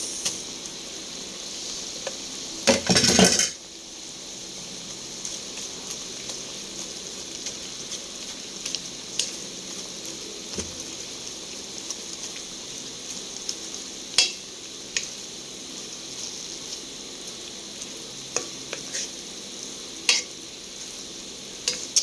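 Onions frying in a pan for beef steak, a soft steady sizzle with a loud burst as they hit the oil early on, then scattered spatula scrapes and stirs at close range.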